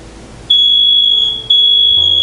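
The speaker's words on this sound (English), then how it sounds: "my smoke alarm went into a full-on alarm" A piercing high-pitched smoke alarm tone, set off by grilling frozen pizza indoors, sounds in long continuous bursts, loud and close, with a brief dip partway through.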